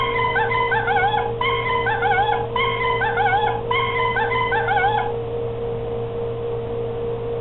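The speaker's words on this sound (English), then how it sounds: "what a lemur sounds like, folks." A plush lemur toy plays its recorded call: a series of thin, yipping, wailing phrases in quick bursts over a steady electronic hum, stopping after about five seconds while the hum carries on.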